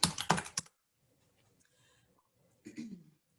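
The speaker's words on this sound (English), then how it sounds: "in my search bar, I'm just going to type the word manual" Typing on a computer keyboard while entering a word into a search bar: a quick, close burst of key clicks, then near silence, then a second short flurry of keystrokes.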